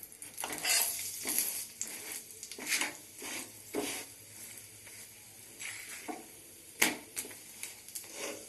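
Paratha frying in a pan: low sizzle with repeated scraping and stirring strokes and occasional clinks of utensil against metal, close by and fairly quiet, with no talk.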